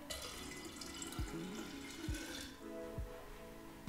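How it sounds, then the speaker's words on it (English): Cold water poured from a tap into jars of brewed tea for kombucha, a steady continuous splashing stream with a few low thuds, close and moderately loud, no talking. "now I'm adding like another half a liter of just cold water to each of these"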